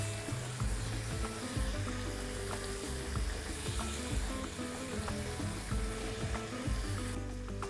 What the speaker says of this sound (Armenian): տապակի մեջ դնում ենք մարինացված բտիկները